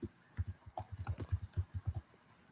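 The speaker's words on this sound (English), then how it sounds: "who is that typing" Keyboard typing: a quick run of about a dozen soft key taps in an uneven rhythm, faint and slightly distant, with no talking over it.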